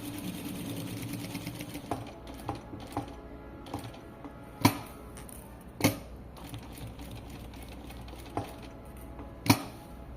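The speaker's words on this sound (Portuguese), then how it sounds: "fazer o pesponto, seguindo a borda do tecido da peça" A sewing machine topstitches along the fabric edge of a tailored double-welt pocket, its needle chattering in a fast steady run broken by a few sharp clicks and pauses, close and clear with no talking.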